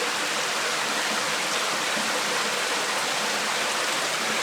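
A creek in a limestone cave passage pours into the rock and vanishes, making a steady, close, broadband rush of running water that holds an even level with no voices.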